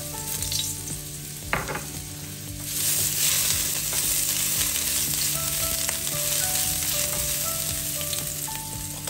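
Ginger sizzles in hot oil in a pan for Filipino ginataang kalabasa at sitaw, giving a loud, steady frying crackle with a few stirring knocks and faint kitchen tones in the background.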